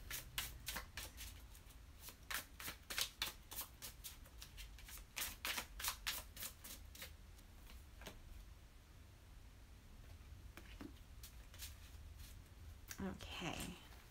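Cards are shuffled for a card reading in a series of quick, soft riffling bursts, fairly faint and close, with light talk near the end.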